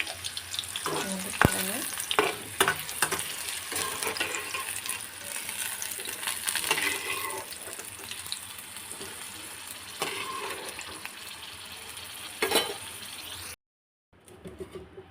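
Ingredients sizzle in a pan for a kondapindi leaf chutney, a moderate frying hiss with occasional utensil clinks that cuts out abruptly near the end.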